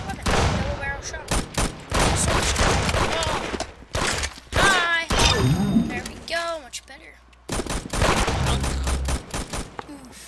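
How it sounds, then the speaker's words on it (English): A double barrel shotgun fires repeatedly in Roblox Arsenal, loud booming blasts amid chaotic game effects, with a voice talking over much of the action. "This is my favorite weapon. Double barrel shotgun."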